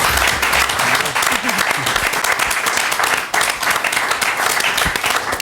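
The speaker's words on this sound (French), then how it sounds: "Je vais les applaudir" Loud, dense audience applause fills the whole stretch, a steady wash of clapping with a brief dip partway through.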